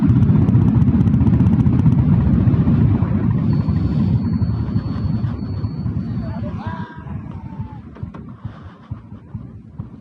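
A Royal Enfield Bullet motorcycle rumbles steadily in top gear, its engine thump mixed with wind noise; the drone fades gradually toward the end.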